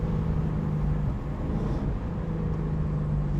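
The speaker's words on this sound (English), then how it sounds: "The V8 sounds great." A 2025 Ford Mustang RTR Spec 3 convertible's V8 engine drones as a steady, close low rumble heard from inside the car, even and unbroken with no revving peaks.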